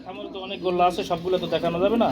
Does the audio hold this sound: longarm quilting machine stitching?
no